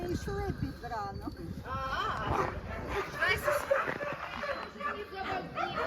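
Dogs at an animal shelter in Ukraine yip, whimper and bark in a busy stretch of overlapping calls, close by, while people talk over them throughout.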